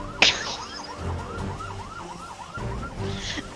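An emergency vehicle siren wailing in a rapid repeating up-and-down pattern, fairly close, with traffic noise and a brief sharp sound at the start.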